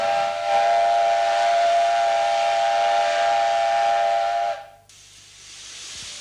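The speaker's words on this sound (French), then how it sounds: "la locomotive du train spécial entre Malines et Bruxelles" A steam locomotive on a special train between Mechelen and Brussels blows a loud, sustained steady whistle over hissing steam, then the whistle cuts off abruptly leaving a quieter hiss.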